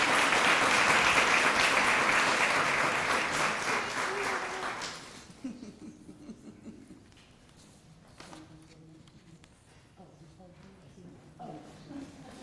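City council meeting audience applauding a community award inductee, a full round of clapping for about five seconds that stops abruptly, followed by quieter room sounds and a few footsteps.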